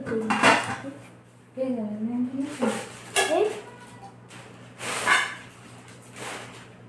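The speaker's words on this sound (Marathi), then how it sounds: "तर हे छान अशी कढई आहे स्टीलची आहे" A steel kadhai (wok) being handled in a kitchen, with metallic knocks and clanks in separate bursts, close by, while someone talks over it throughout.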